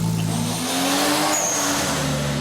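A 440-horsepower Mazda M6 Turbo drift car: its engine revs loudly and steadily with rising, wavering pitch and a hint of tire squeal, close and without talk.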